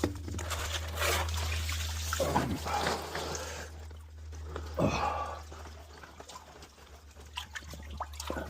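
Sponges from a garden fish pond are rinsed and squeezed in a container of pond water, giving soft trickles, drips and sloshes against a steady low background hum, with no talk.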